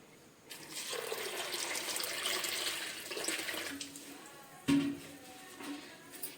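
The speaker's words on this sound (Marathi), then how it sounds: "आता मी त्याच्यामध्ये पाणी ओतते" Water pours steadily for a few seconds onto washed sago pearls in a pot, a broad splashing rush that tapers off, followed by a brief clunk and quieter trickling.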